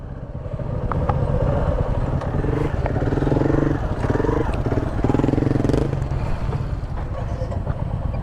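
Motorcycles idle and rumble nearby at a village parking spot near Bengaluru while the bikes are moved forward. The engine drone is steady and loud, and voices can be heard talking over it.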